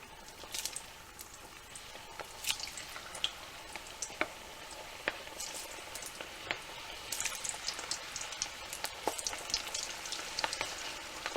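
Homemade French fries sizzle steadily in oil in a cast iron skillet, a continuous crackling fry with scattered sharper pops and ticks throughout, no voices.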